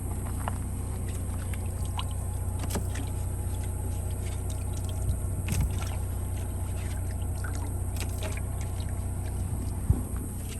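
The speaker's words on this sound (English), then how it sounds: "So I'm going to get rid of this water and get some fresh water." Water being poured and dumped out of a cooler while camping outdoors, a steady low wash of splashing and trickling with a few small knocks, moderately loud and continuous, without speech.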